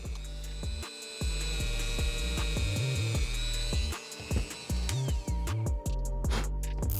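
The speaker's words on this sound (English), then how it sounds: "Using a Dremel, I'm gonna drill 2 holes in this area right here" A high-pitched Dremel rotary tool whines steadily while drilling holes in a sneaker, dipping and surging as it bites into material, with short pauses between bursts of drilling.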